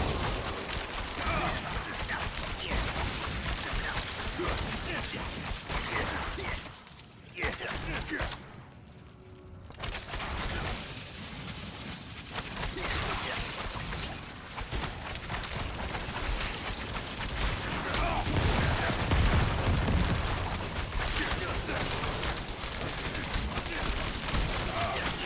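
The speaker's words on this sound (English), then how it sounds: "Getting those explosions." Repeated explosions and area blasts from Diablo 4 gameplay, Season 5 with a Heartseeker Rogue, form a dense, loud, continuous barrage. The blasts are heavy and layered, ease briefly for a moment, then resume strongly, with a voice talking over them.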